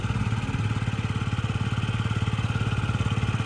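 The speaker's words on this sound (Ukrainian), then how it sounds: "Повністю ідеальна робота двигуна" A small Yamaha Jog SA36 fuel-injected scooter engine idles steadily up close, its fast even putter holding a constant rhythm throughout with no voices.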